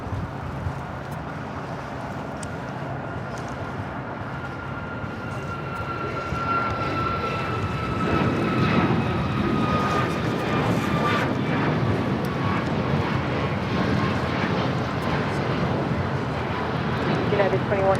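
A jet airliner takes off from runway 25 right at Los Angeles International Airport, its engine roar building steadily and staying loud and close throughout, with a whining tone riding on top and a voice faintly underneath.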